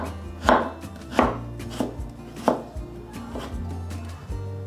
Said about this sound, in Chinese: 红萝卜换一个方向切碎。